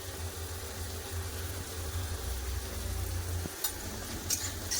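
A spice paste of ground chili, cumin and mustard with turmeric sizzles in hot oil in a fish-head vegetable curry, giving a steady close frying hiss and a low rumble throughout, with a few light utensil clinks near the end.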